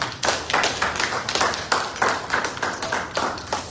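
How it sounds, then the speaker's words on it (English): An audience claps together in a bright, steady round of applause lasting several seconds, with irregular loud bursts across the crowd and no talk over it. "Come clap for him."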